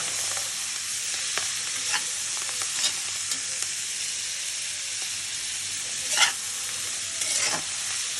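Leafy greens tempered in hilsa fish oil are stirred in a hot pan: a constant loud sizzle and hiss, with scraping stirs punctuating it every second or two.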